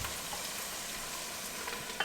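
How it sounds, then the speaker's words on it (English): Steady hiss and crackle of onions frying in a hot pan, continuous broadband sizzle with no voices. "Keep frying the onions until they're a really nice golden brown color"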